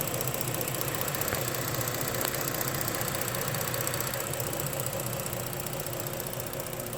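Ford Explorer 3.5L engine idling after reinstallation, a steady close mechanical drone with a faint ticking texture, continuous and even with no voices.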